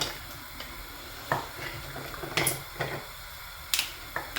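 Spoon stirring cream with melted dark and milk chocolate in a pot, giving irregular scraping clinks and taps against the pan, close and moderately loud, with no talking.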